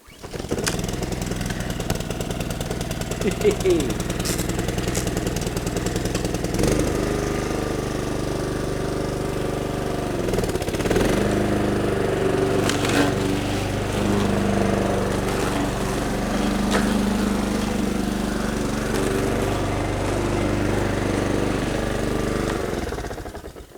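A garden machine's small petrol engine starts up and runs, a loud close rattling drone that holds steady for about twenty seconds with brief shifts in pitch before cutting off at the end.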